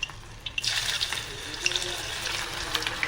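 Battered cauliflower florets for gobi manchurian go into hot oil, making a steady, close sizzle with scattered sharp crackles.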